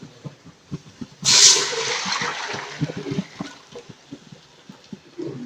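Hot water from a pot on the stove poured into a cooking pot for biryani, a loud splashing gush that starts abruptly and tapers into a steady trickle amid light kitchen clatter.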